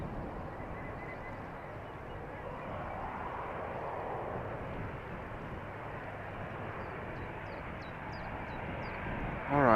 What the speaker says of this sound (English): I hear several airplanes. They are all taxiing to the threshold.